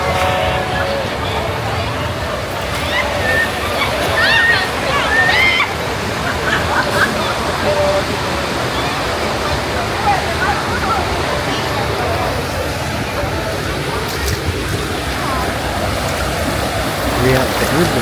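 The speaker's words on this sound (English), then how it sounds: "We have the river." River water flowing steadily as a continuous broadband rush at an outdoor riverside spot, with people talking and chattering over it throughout.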